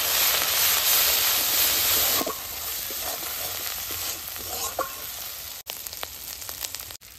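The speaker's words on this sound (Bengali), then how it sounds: "মশলা ভালো করে ভেজে নিয়েছি।" A ground paste of onion, ginger, cumin, dried chilli, salt and turmeric fries in a pan with a loud, dense sizzle that softens a little after the first couple of seconds, and scattered stirring clicks come through near the end.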